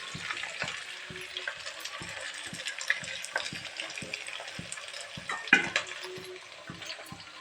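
Chopped onions sizzling in hot oil in a pan at home, with steady frying hiss and repeated soft scraping and stirring knocks throughout, no talk.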